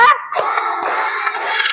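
A class of children doing a rhythmic focus clap in a classroom, a few sharp, close bursts of clapping in quick succession.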